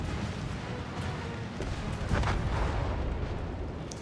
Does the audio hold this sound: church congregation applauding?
no